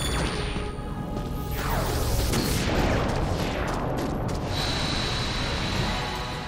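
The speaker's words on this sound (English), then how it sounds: "Don't look at the explosion, Goofy." Explosion in Kingdom Hearts Final Mix, a dense crackling blast with sweeping whooshes and rattling debris that fills several seconds at close, loud range.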